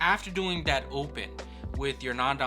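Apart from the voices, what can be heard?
No distinct noise like a dog, phone or traffic.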